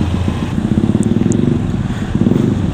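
A Honda CB motorcycle fitted with an aftermarket Leolingga exhaust, ridden in traffic and heard close as a loud, throbbing engine with rough pulsing under steady wind noise.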